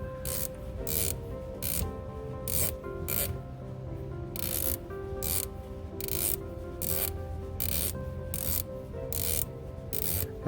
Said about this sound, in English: Okay, we have some dead clicks. See, there we go. Dead clicks right there.